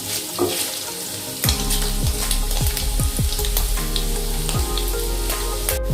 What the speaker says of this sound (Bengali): তো আমি হালকা করে পনিরটা ভেজে নেব